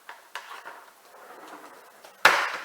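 A spatula scrapes and clanks against a pan while sticky homemade chewy granola protein bar mixture with sugar is stirred, with soft irregular scraping, a few light knocks, and one sharp metallic clatter near the end.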